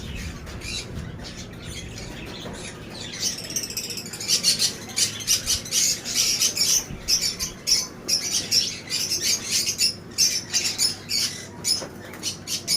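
A flock of pet birds fills the space with loud, overlapping squawks and chirps that grow busier partway through and continue densely to the end, with no talk.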